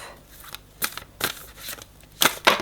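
A deck of oracle cards is cut and handled during a card reading, giving a series of soft papery riffles and sharp flicks at close range, with several louder snaps near the end.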